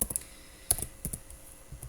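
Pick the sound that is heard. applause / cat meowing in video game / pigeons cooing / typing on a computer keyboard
typing on a computer keyboard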